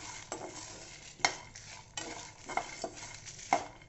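Cumin, fennel and a sprig of curry leaves dry roasting in a pan over a low flame, with a soft continuous crackle and several sharp scrapes and taps as a spoon stirs them.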